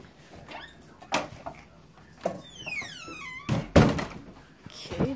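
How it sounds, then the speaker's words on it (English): A house door is closed with several solid wooden thunks spread across a few seconds, one heavier knock near the end, along with a brief high whining tone and faint background voices. "close the door"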